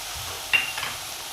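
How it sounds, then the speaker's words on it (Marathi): Chopped tomato tipped into a pan of softened onion for a wild vegetable curry gives a sudden hiss, then a soft, steady sizzle and stirring scrape, close by and moderately loud, with no one talking. "टोमॅटो घालून असं परतून घेतलं आहे"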